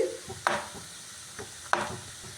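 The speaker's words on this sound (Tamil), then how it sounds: "இதையும் சேர்த்து கிளறிட்டு" A spoon scrapes twice through a frying pan of spices and turmeric, soft sizzling between the strokes.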